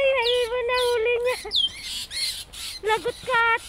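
A bird squawks and calls repeatedly in short harmonic bursts, close and loud, with people talking intermittently nearby.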